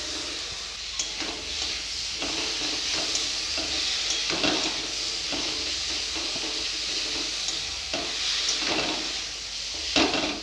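Chilli, turmeric and cumin powders fry in a pan for egg tadka and are stirred now and then, so scattered scrapes and knocks sit over a constant loud hiss with no speech.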